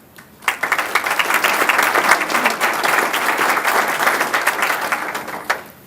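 A morning community program audience breaks into sustained, dense applause that rises sharply, holds steady for several seconds, then stops abruptly.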